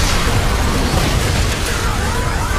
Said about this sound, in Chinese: 成功的把自己炸死了